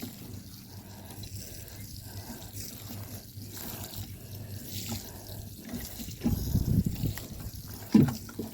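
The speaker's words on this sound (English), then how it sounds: "And we are going to water everything really well." Water spraying from a hose onto a carrot and radish garden bed, a continuous soft hiss with faint splashing and a couple of louder bursts near the end.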